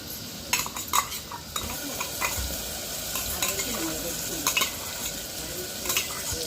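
Onions, masala and tomato paste frying in a pan for a bean curry, with a steady soft sizzle and repeated scraping clinks of a spoon stirring close by.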